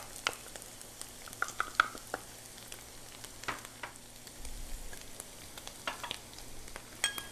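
Spices are tipped onto meat frying for gosht ka achar, giving a steady soft sizzle in the pan with scattered clicks and taps of a spoon stirring, close by and moderately quiet, with no talking.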